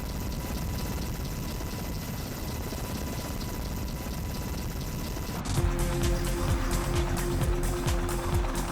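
An Apache Longbow combat helicopter flies with a continuous rotor and turbine roar that grows louder and more pulsing partway through, alone without voices.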